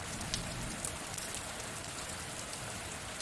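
Rain falls steadily, a dense even hiss of drops on surfaces with a few sharper individual drop ticks, constant and moderately quiet throughout.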